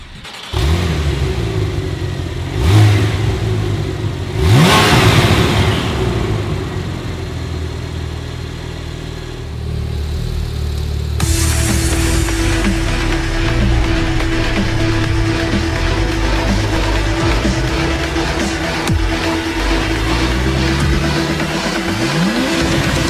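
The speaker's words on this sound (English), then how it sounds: "The new Porsche Turbo S really jumps forward at the launch control start due to 560 horsepower." Porsche 911 Turbo S of the 991 generation, 2014, with 560 horsepower, launching hard from a launch control start: a loud, sustained engine roar that builds and rises steadily throughout, close and dominant with no talk.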